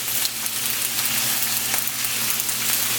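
Scallion and pimento seeds fry in a pot for a Jamaican vegan steamed dish, giving a steady, close, dense sizzle with faint bubbling pops and no talking.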